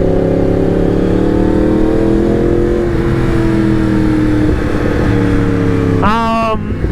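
A Yamaha MT-10 motorcycle pulls hard under sustained acceleration, its engine drone rising and steady close up, then climbing sharply in pitch near the end.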